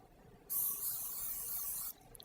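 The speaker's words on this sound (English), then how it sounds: "Just spray it a little bit." Cooking spray hisses onto a piece of salmon tail in a steady burst of about a second and a half, close and fairly loud, with quiet room sound before and after.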